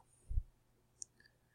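A single crisp computer mouse click in a spreadsheet, close and fairly quiet, comes after a brief low thump, with a faint small tick just after it in an otherwise quiet room.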